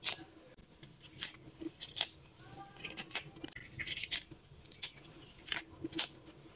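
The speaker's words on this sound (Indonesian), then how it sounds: "Kolnya saya potong seperti ini." A knife slicing through fresh cabbage makes crisp, crunchy cuts in an irregular series, close and fairly quiet, with no talking.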